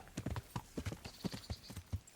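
Video game horse hooves clip-clop in a steady, brisk rhythm on a hard surface, quiet and close, with no other sounds around them.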